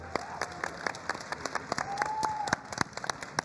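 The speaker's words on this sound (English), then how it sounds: "Give yourselves a round of applause for showing up." A crowd at BlizzCon 2015 claps, with scattered individual claps standing out over a steady patter, at moderate volume and without any talking.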